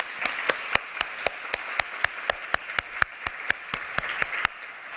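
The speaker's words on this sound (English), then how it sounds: "Can everybody please give me a round of applause?" An audience at a keynote event applauds, a run of crisp, evenly spaced claps that sounds like one or a few nearby pairs of hands, ringing in a reverberant room before stopping abruptly.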